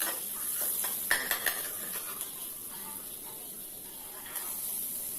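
Chopped onion sautéing in a pan for egg fried rice, a soft steady sizzle with a few light clinks and scrapes of a spatula near the start, no talking.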